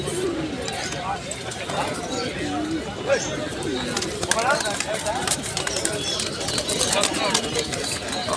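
Pigeons coo at a busy pigeon market in Fatullah, Narayanganj, their soft calls repeating through steady crowd noise while people talk nearby.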